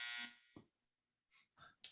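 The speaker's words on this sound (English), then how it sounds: "the little beeper goes off" A short electronic buzzer beeper sounds at a sports game, marking the end of play; brief harsh bursts repeat with gaps, the first one longest and loudest, with no talking.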